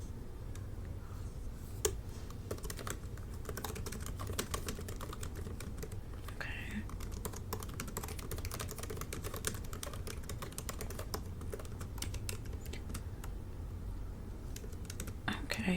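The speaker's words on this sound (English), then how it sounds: "And I'll just be typing, don't mind me." Steady computer-keyboard typing runs throughout at low volume, a continuous patter of soft clicks during a relaxed job-interview roleplay, with no talk over it.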